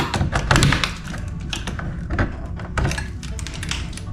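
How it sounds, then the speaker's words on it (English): Drywall chunks knocking loose inside an electrical light-switch box, a run of sharp close taps and dull thunks at irregular intervals, with scraping and small clatters between them. "knocked some drywall chunks out there. That was laid up in that box"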